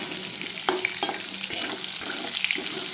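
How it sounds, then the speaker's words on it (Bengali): Pieces of pointed gourd (potol) fry in a pan with a steady bright sizzle, broken by several sharp scraping stirs spaced about half a second apart; close and fairly loud, with no talk. "পটলটা ভাজা হোক"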